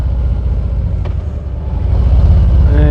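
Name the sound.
Harley-Davidson Ultra Limited motorcycle riding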